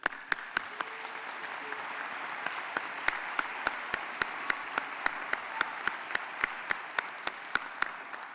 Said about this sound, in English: I would like to offer a round of applause